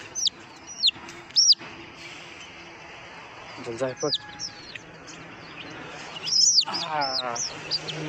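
Chickens, including a rooster, cluck and squawk nearby in short bursts, with high chirps from chicks scattered throughout and a person speaking briefly in between, on a village poultry farm.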